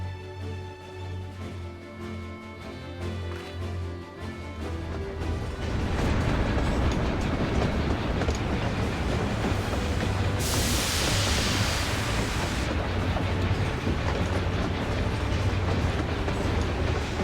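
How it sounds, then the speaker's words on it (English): A train pulls into a station in the Final Fantasy XIV online game, its rumble and clatter building from a quiet start to a loud, steady roar that continues to the end, with no talk over it. "Choo-choo."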